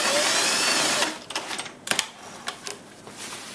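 A sewing machine runs in short, rapid bursts, back stitching to lock the seam on a skirt alteration. The stitching is close and fairly loud, stopping and starting several times with no talk.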